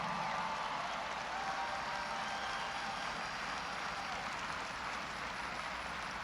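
Steady, dense applause and crowd roar fill a large rally hall in Des Moines, Iowa, in December 2016 for President-elect Donald Trump, loud and unbroken throughout with no distinct voices above it.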